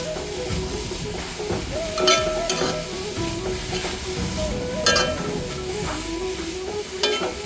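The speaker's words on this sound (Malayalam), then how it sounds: "ഇനി ഇതിലേക്ക് കുറച്ച് മഞ്ഞൾപ്പൊടിയും ആവശ്യത്തിന് ഉപ്പും കൂടി ഇട്ട് ഒന്ന് ഇളക്കിയെടുക്കാം" Cabbage thoran with turmeric and salt is stirred in a hot pan during home cooking, the spatula scraping and tapping in irregular strokes over a soft continuous sizzle, fairly quiet and close.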